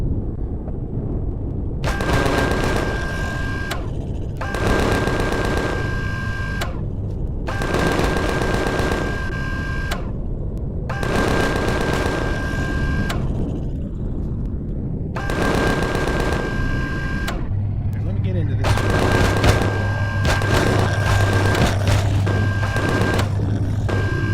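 Automatic weapons fire in the space survival game Empyrion Galactic Survival, Alpha 9, comes as about six long, loud bursts of rapid shots with brief pauses between them and no talking over it.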